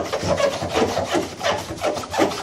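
A cloth or brush scrubs the inside of a washing machine during a cleaning job, with steady back-and-forth rubbing strokes repeating in a close, even rhythm and no talking.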